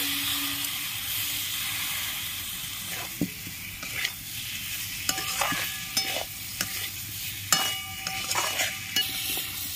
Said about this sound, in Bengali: মশলা থেকে তেল ছেড়ে দিয়েছে, সেদ্ধ করা আলু দিয়ে দিচ্ছি।